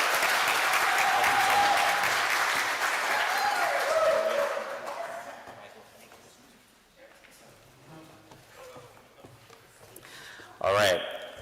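A Rotary Club luncheon audience gives a round of applause for new members. The clapping is loud and dense for about five seconds, then fades out, and speech follows with a brief sharp noise near the end.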